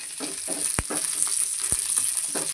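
Peanuts frying in hot oil together with fried chillies, a steady, close crackling sizzle with a few sharp pops as the pan cooks.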